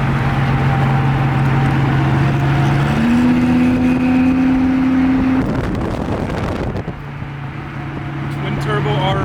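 A twin-turbo Lamborghini Huracan Performante pulls away from a car show, its engine holding a steady tone and then rising in pitch as it revs, with talk over the sound and other car noise around it.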